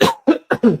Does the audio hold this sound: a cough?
yes